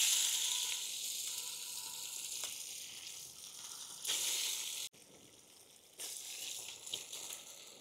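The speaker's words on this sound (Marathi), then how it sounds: "आता आपण याच्यामध्ये अंडे फ्राय करून घेऊ" Eggs frying in hot oil give a steady, fairly quiet sizzle with a few brief louder bursts, heard alone with no talking.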